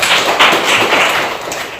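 A classroom of students claps their hands together, giving a brisk, fairly loud spread of overlapping claps that stays steady and then tapers slightly toward the end.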